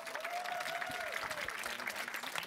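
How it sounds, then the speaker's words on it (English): Audience applause at a talk event fills the space, a dense steady wash of many hands clapping, with a faint whistle-like tone drifting over it early on. "Give these guys a huge round of applause."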